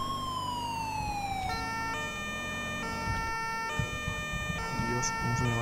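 Zaragoza ambulance sirens in the video game GTA with the LSPDFR mod, a loud, continuous, close electronic wail that sweeps in pitch and then settles into a steady alternating tone.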